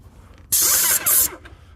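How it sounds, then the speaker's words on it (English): A loud, hissing blast from a Vevor X6 airless paint sprayer in two bursts with a brief break between them, close by, against quiet background noise. "Get my spray rig on."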